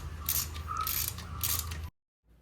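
A ratchet clicks in short bursts, three quick runs of ratcheting, as clutch cover bolts are tightened on a Yamaha FZ V1 motorcycle, close and clear before cutting to silence.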